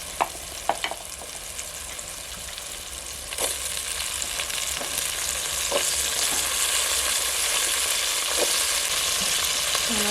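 Potatoes are frying in oil with peas and pigeon peas for spiced village-style rice, a dense continuous sizzle close by, with a few sharp utensil clinks early on.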